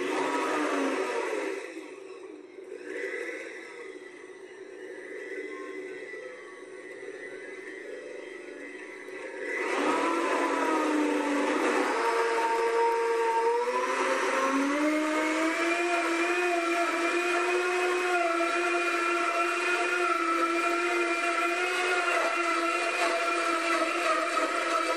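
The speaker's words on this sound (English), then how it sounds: "it's a blender on steroids. It's going to be kind of loud, so I'm going to turn it on" A high-powered blender runs loudly for a green smoothie, starting with a lower churning whir, then jumping at about ten seconds to a steady, intense high-speed roar with rising motor tones that holds to the end.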